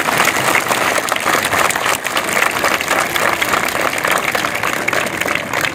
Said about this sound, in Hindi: तो इनके लिए भी शानदार तालियां